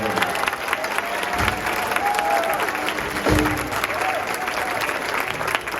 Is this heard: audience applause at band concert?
yes